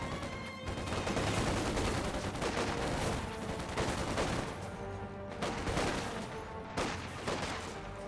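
Gunfire in the video game Company of Heroes 2, with a Volkswagen vehicle firing on a rear echelon squad; loud sustained bursts of rapid shots with short pauses between volleys, no talk.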